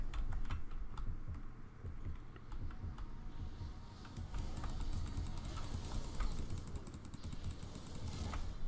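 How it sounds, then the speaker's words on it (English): Rapid mouse clicking during play of the video game Paragon forms a steady, busy stream of small clicks over constant background game noise. "I'm just clicking. I'm clicking away."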